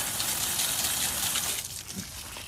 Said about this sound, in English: I hit it with water and nothing happens